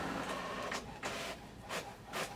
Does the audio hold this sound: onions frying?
no